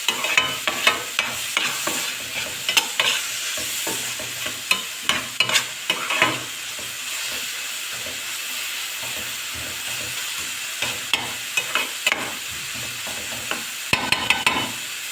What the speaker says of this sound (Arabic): ونشوح في البصل